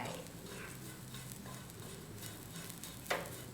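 Shredded coconut dry-roasting in a pan, with a steady soft scraping and rustle of stirring at low volume and one sharper clink near the end.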